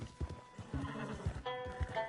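A horse in the Red Dead Redemption 2 video game whinnies close by, with clip-clopping hooves and harness jingle, about two seconds, no talk over it.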